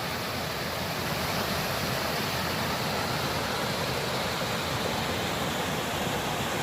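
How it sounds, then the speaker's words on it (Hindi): Birsi Falls, a mountain waterfall beside the road to Munsiyari, roars as a steady, dense rush of falling water, close and continuous with no breaks or voices. "ये पहाड़ी झरना मिला मुंशियारी के मार्ग में। यहाँ पानी गिर रहा है"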